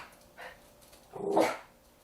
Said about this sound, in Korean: 현관에선 훈련사를 보고 다시 짖기 시작하는